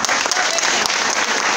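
A crowd at a rural union general assembly breaks into dense, continuous applause, loud and steady throughout.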